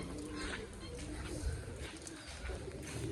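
Newly released pigeons coo softly over a steady broadband hiss, like rain falling on an open rooftop, with a voice talking intermittently nearby.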